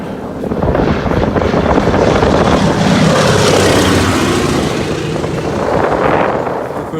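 Floatplane engine and propeller droning steadily as the aircraft departs over remote Sandy Lake wilderness in the Northwest Territories, loud and broad with wind buffeting the microphone, swelling slightly near the end.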